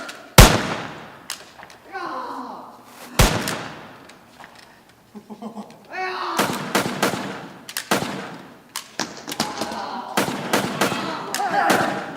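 Stage gunfire during a high school theater production of Treasure Island: loud, sharp bangs, two isolated shots early on and then a rapid flurry of them later, with actors shouting and talking between the blasts.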